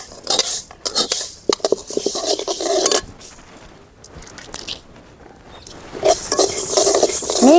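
Coriander seeds and cardamom pods dry-roast in a pan, rattling and scraping loudly in close bursts as they are tossed and stirred, with a quieter lull midway before the clatter resumes.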